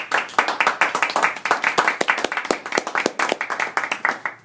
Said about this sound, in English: I'd like to make sure we all give ourselves a round of applause